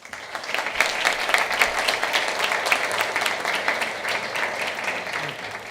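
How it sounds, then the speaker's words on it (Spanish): Strong audience applause at a 2015 business forum welcoming a speaker, a dense, fairly loud crowd of clapping hands that holds steady for several seconds with no talking. "La recibimos con un fuerte aplauso."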